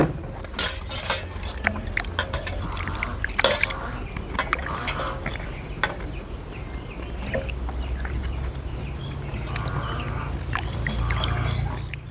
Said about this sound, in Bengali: আগে প্রথমে আমগুলো ভালো করে ধুয়ে তারপর কেটে নেব।